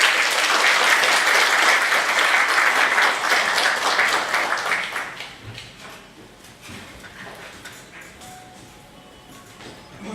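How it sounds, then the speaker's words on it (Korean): Loud, dense audience applause at a university conference in Busan welcoming a professor to the stage, sustained for about five seconds and then fading into a quiet room with faint scattered noise. "큰 박수로 맞이해주십시오."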